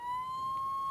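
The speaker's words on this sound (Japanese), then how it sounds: "救急車で通ります。" A siren on an emergency vehicle in Flashing Lights, a steady, loud electronic tone holding a single pitch without breaks, with faint background noise beneath it.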